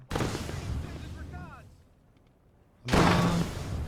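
Grenades burst in the WWII strategy game Gates of Hell Ostfront: two loud booming explosions, each with a rumbling tail, separated by a brief quieter gap.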